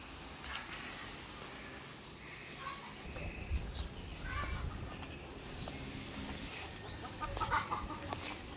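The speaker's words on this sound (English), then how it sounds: "Hen just laid an egg." Chickens cluck intermittently at a distance over a faint outdoor background on a Philippine beach homestead, a hen having just laid an egg, with a few sharper calls toward the end.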